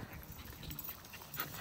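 Several dogs playing outdoors, panting hard with scuffling movement and small whimpers, fairly faint and close, with no talking.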